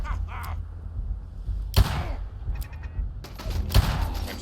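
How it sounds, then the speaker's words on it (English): Turret gunfire in Fallout 4 tears through a wooden barrier as sharp, loud bursts of shots and impacts come in quick clusters, with a player's voice talking between and over them. "Ah, a turret actually blew through the wood."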